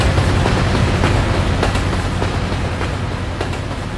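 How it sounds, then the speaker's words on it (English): A train passes by in a video game with a loud, continuous, close rumbling roar, steady throughout and punctuated by faint rhythmic clacks. "Oh, we got a train going by."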